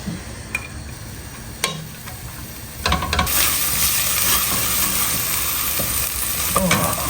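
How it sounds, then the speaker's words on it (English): Ginger, garlic and shallot sauté in sesame oil in a pan, starting with faint scattered ticks and stirs before a steady, fairly loud sizzle swells up and holds to the end, with no one talking. "So saute that off for a couple of minutes until it starts to go translucent."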